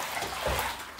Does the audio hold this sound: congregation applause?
no